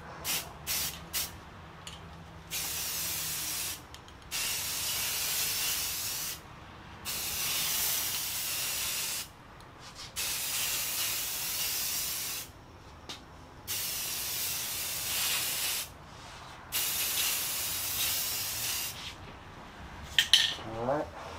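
Spray gun laying a second coat of paint on a Vstar 1300 fairing, with repeated bursts of steady hissing spray, each lasting a couple of seconds, separated by short pauses, fairly close.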